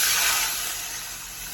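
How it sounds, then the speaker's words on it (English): Three cups of water poured into a pot, a loud close hissing splash that fades gradually over a second and a half, with no talk. "so we have 3 cups of water and we're gonna pour it in here"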